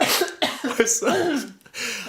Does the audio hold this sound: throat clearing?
yes